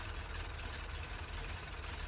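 Logging truck engine idling in the Mudrunner video game, a steady low rumbling drone at a constant level with a faint knocking texture, close and uninterrupted.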